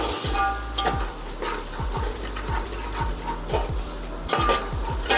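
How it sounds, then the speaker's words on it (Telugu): Chili powder frying in hot oil in a pan for Nellore fish curry, a steady sizzle punctuated by repeated rhythmic scraping strokes of a spoon stirring, close and fairly loud with no talking. "వేసి దీన్ని ఇప్పుడు బాగా ఫ్రై చేయాలి."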